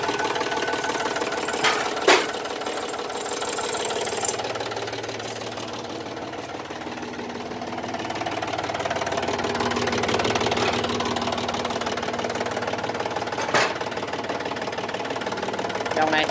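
An Iseki TA312 tractor engine runs steadily at idle with a smooth, even mechanical hum. A few brief clanks break in near the start and near the end, and voices talk over it throughout.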